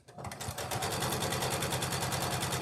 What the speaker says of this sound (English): I'm going to give it a back stitch